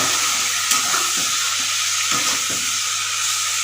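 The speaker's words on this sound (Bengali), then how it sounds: "মশলাটাকে কষাতে হবে" Spice paste for a Bengali fish-head curry sautéing in a pan, a steady broad sizzle with soft stirring scrapes and a low hum underneath, no talking.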